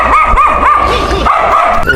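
Several dogs bark and yip in quick, repeated bursts on a street in Gyumri, Armenia, close by and loud, with a whining, whimpering edge between barks.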